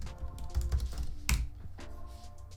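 Keyboard typing on a computer while a question is entered into an AI chatbot, a quick run of close, crisp key clicks with one louder thump partway through and no talk.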